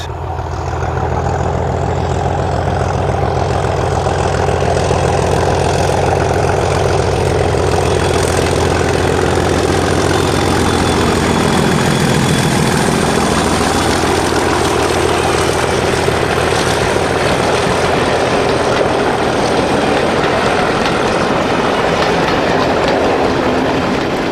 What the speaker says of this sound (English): 37227 revs up in April 2008.